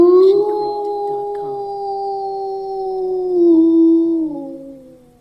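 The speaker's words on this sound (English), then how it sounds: "Wolf 2." A single long wolf howl sound effect holds a steady wavering pitch, swells briefly near the end, then fades and drops away, heard alone and fairly close.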